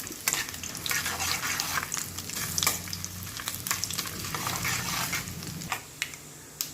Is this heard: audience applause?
no